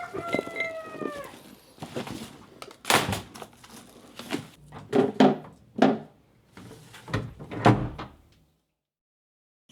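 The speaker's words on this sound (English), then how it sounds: "let me close the door real quick." A door in a home production room slides and thunks shut amid a series of bumps and knocks, ending in silence.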